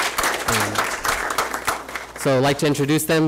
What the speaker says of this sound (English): So again, a round of applause for them